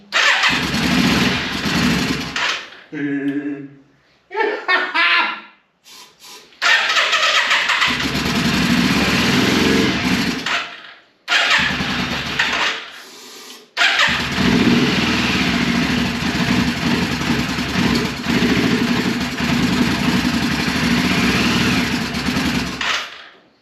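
A 1995 Yamaha Virago 535 motorcycle cranks in short bursts, falters, then catches and runs in long loud stretches of rough close engine roar, with brief cut-outs and restarts between runs.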